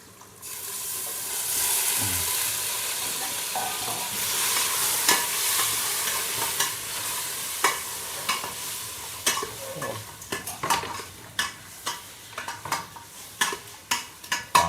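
Minced meat stirred and fried in a pan on a home stove, a steady sizzle with a utensil scraping and clinking against the pan, the sharp knocks growing more frequent and spaced toward the end.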